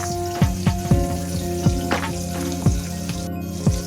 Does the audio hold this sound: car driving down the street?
no